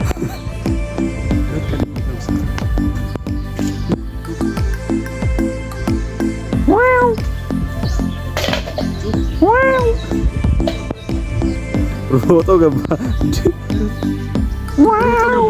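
A cat meows several times, drawn-out rising and falling cries scattered across the clip, with a person speaking briefly and some household background noise.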